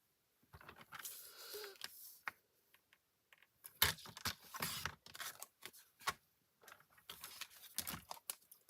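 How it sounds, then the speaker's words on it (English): Scissors cut a small square of foil paper for a card project in short crinkly snips and rustles. The bursts come in separate clusters with quiet gaps between them, close and fairly soft. "So I'm going to cut a 3 1/2 by 3 1/2 piece of foil."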